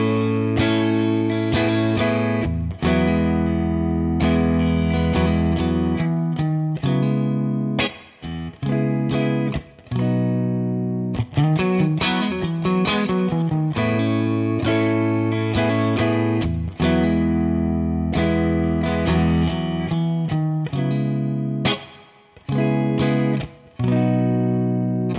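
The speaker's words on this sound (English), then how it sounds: "And here's a clean tone from the 2-Rock." An electric guitar played with a clean tone through a Two-Rock boutique amp rings out in sustained chords and single notes, loud and continuous for the whole stretch with brief pauses, and no one talking.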